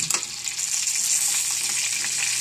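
Crab sizzling and frying in a pan on a stove, a dense, steady crackling hiss with small pops throughout and no voices.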